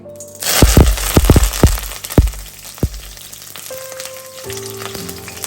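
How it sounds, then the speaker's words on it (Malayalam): Curry leaves dropped into hot oil for a squid fry burst into loud, close crackling and popping, a rapid cluster of sharp spits that thins to scattered pops over a steady sizzle. "നമുക്കിനി ആദ്യം തന്നെ അതിനകത്തോട്ട് 2 കറിവേപ്പില ഇട്ട് കൊടുക്കാവേ"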